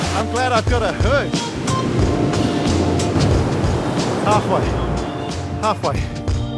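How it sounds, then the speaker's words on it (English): Roaring rush of an Icelandic waterfall heard from close behind the falling water, a loud broadband torrent with wind buffeting, while a person talks over it throughout. "Inside the waterfall."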